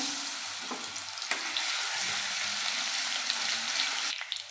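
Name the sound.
garlic paste sizzling in hot oil in a wok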